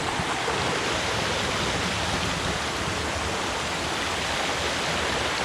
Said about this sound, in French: Petite cascade ici.